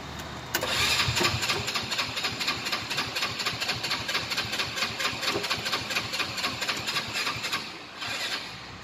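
A Yardsport XLT YS200 engine catches after a brief crank and settles into a steady, rapid chugging idle with the idle unadjusted, loud and close, dipping briefly near the end before picking back up.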